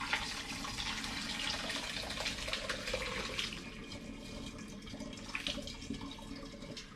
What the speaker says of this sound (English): So I'm using a sieve to filter, and I'm just going to begin by pouring.